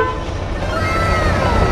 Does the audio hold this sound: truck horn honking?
yes